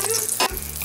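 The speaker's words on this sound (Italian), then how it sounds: "Facciamolo rosolare così, che così fa prima." Chicken breast browning in a hot pan, a steady close sizzle with a brief louder burst of frying midway.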